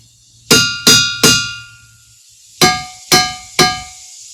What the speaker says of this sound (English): when you hit them with a hammer, they ring.